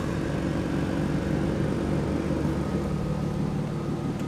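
A BMW E36 drift car's engine idles steadily and loudly nearby, a constant low rumble with no speech and no change in pitch.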